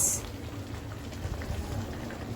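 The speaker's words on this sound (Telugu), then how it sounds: "రైస్ ఉడుకుతుంది చూడండి." Bagara rice cooking in water in a pot gives a steady, faint low bubbling and rumble that continues alone, with no talking.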